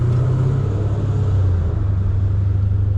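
Dodge Challenger ScatPack with long tube headers, a deep, loud exhaust rumble held steady and close while driving between buildings, with no talk over it.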